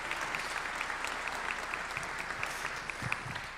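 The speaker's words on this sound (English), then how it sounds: "Let's give them some applause, yeah." A concert crowd at a send-off concert applauds, a steady, even roar of many hands clapping throughout with no break, fairly close and full.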